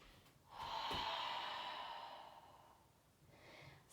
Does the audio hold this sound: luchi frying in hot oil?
no